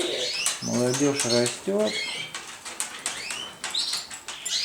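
Pigeons in a pigeon loft give low, rolling coos and bursts of flapping wings nearby, with a voice speaking briefly among the birds.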